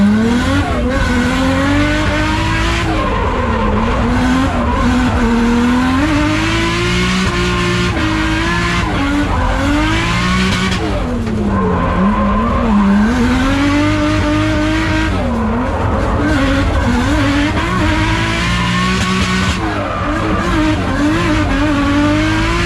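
Loud, close engine of a 400 hp RB25DET-swapped Nissan S14 revving in rising and falling sweeps against the limiter while tires squeal continuously through a long drift.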